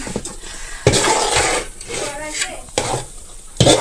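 A spoon stirs pulao in a pot with scraping, clinking strokes over a soft sizzle, close and fairly loud, with a few sharp knocks against the pot.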